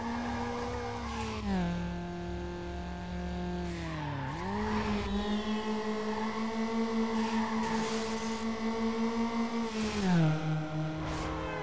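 A tuned Honda Civic in Need for Speed Underground revs hard, its engine note climbing and shifting gears steadily with tire squeal mixed in, loud and continuous with no talking.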